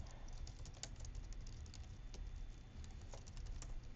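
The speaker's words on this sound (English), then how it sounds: "I'm just going to type everything out." Quiet, rapid tapping on a computer keyboard as Python code is typed, a steady patter of soft key clicks at close range with no talk.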